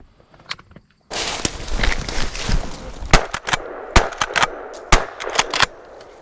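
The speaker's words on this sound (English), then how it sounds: "Shoot him, AJ." Gunfire while hunting cottontail rabbits outdoors: a quiet start, then a burst of loud, sharp shots, followed by several more separate cracks in an irregular rhythm, close by.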